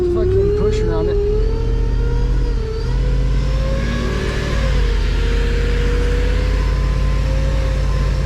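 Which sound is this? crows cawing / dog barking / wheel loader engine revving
wheel loader engine revving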